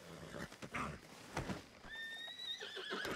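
A horse in Red Dead Redemption 2 (RedM) whinnies loudly and close, with a rising, wavering neigh in the second half and scuffing hoof movement before it.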